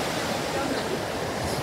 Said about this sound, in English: we are close to the waves